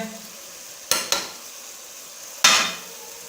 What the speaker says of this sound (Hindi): और मिक्स करेंगे और फ्राई कर लेंगे अच्छे तरीके से